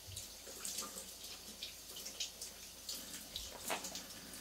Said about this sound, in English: I'm just rinsing that off under the tap.